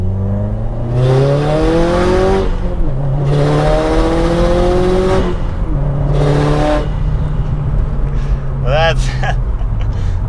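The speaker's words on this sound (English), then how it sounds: "So now let's see more straight line acceleration. Get in second gear." A 2015 Subaru WRX STI accelerates hard in second gear from inside the cabin, its engine droning upward in three strong pulls separated by brief gear-change dips, loud and steady throughout.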